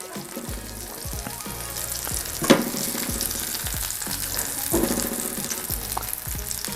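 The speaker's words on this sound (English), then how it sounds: "Now we will take these off, nice and brown there, and put them on our plate" Zucchini scallops sizzle steadily in a frying pan while a utensil clinks and scrapes now and then as they are lifted out, nice and brown.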